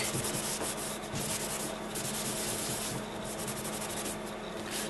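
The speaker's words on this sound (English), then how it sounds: "you're just going to take a tissue I'm just going to wipe off any excess" A tissue is wiped over an embossed card to lift away excess ink, giving a steady, close papery rubbing that runs continuously with slight surges in strength throughout.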